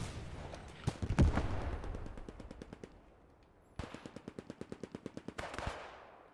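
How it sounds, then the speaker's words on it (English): Rapid machine-gun bursts and heavy booms in the World War II shooter Squad 44, a loud blast early on followed by long, evenly spaced rattling strings of automatic fire. "just keep on shooting, because I like big booms"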